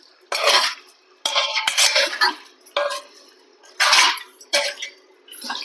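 Marinated biryani masala being stirred by hand in a metal vessel, giving repeated loud scraping and clattering bursts separated by short gaps, close up and without speech.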